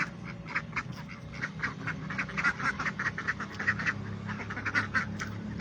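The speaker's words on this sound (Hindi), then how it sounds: "ये बत्तख आ गई।" Several ducks quacking over and over in overlapping bursts, moderately close, over a low background hum.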